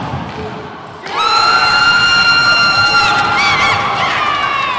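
A packed crowd erupts into loud, sustained cheering and shouting at the San Diego racquetball final between Kane Waselenchuk and Rocky Carson in February 2011, rising suddenly after a quieter moment and holding steady.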